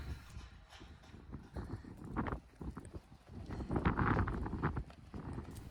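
Hooves clip-clop on the ground as horses walk near an open paddock gate, a soft, irregular series of close hoof falls with light wind noise.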